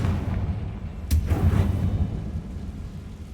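Confringo fire curse from Hogwarts Legacy bursting into a sharp crack followed by a booming, rumbling explosion that fades out over a few seconds, with no talking.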